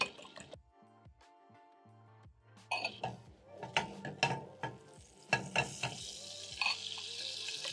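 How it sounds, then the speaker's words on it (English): Eggs with black pepper and salt are whisked in a bowl, producing quiet, irregular clicking and sloshing strokes that start sparse and grow busier, close by with no talking. "Then I'm going to whisk."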